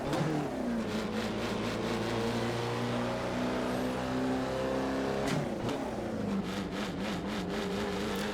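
Alfa Romeo 33 Stradale engine in the racing game Assetto Corsa, at low speed around 3,000 RPM, droning steadily with rising and falling harmonics as the revs shift, with a brief dip and recovery midway, loud and continuous with no talk.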